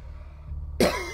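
A man getting over being sick coughs once, a single sharp close cough after a quiet moment.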